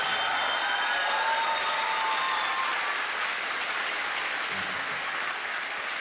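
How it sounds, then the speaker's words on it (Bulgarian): Sustained audience applause fills a concert hall in Svishtov during a children's concert, steady dense clapping lasting throughout with faint tonal traces beneath. "Аплодисменти за Симона!"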